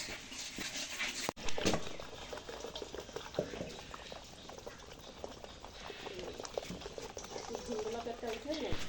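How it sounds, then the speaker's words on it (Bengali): Black Bengal goats slurp and lap water mixed with maize flour feed from a container, a wet, bubbling drinking noise with irregular splashes and a sharp knock early on. "আমাদের ছাগলগুলো দেখেন কত সুন্দর তৃপ্তি সহকারে এই পানিগুলো অর্থাৎ খাবারগুলো খেয়ে ফেলছে"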